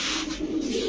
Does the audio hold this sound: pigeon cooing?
yes